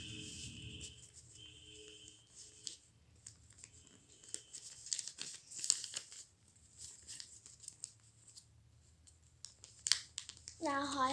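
Sheets of paper creased and folded by hand, a run of soft crinkling, rustling and sharp crease sounds at close range, broken by pauses, with a person talking quietly at times.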